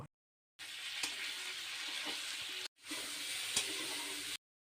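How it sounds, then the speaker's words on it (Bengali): Potatoes and chopped tomato fry in a pan with a soft, steady sizzle in two bursts separated by brief silences, plus a few faint clicks of stirring and no talking. "টমেটো আমি আলুর সঙ্গে দিয়ে ভেজে নেব"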